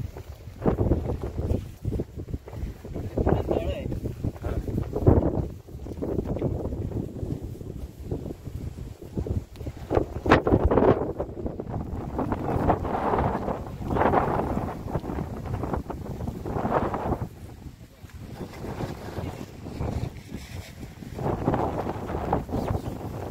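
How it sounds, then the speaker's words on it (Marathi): Strong wind buffets the microphone on the high Kas plateau during rain, a continuous loud rumbling roar that swells and dips in gusts for the whole stretch, with no clear voices. "पाऊस पडतोय, हवा सुटली आहे।"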